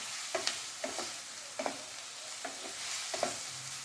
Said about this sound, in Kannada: ಇನ್ನು ಈರುಳ್ಳಿ ಚೆನ್ನಾಗೆ ಫ್ರೈ ಆಗಲಿ, ಅಲ್ಲಿ ತನಕ ಫ್ರೈ ಮಾಡೋಣ